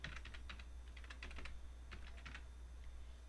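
Rapid typing on a computer keyboard while renaming an Excel worksheet tab: quiet, close clicky keystrokes in short bursts with brief pauses, no talking.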